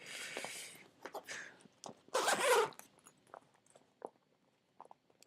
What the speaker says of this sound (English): we'll zip it away from the cat